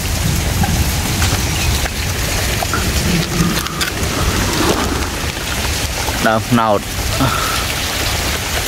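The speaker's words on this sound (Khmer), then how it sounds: "ភ្លៀងតែនៅក្នុងវត្តអាយក្រៅវត្តអត់មានភ្លៀងទេ" Heavy rain pours steadily inside a temple compound, a close and continuous wash over the whole stretch, while someone talks over it.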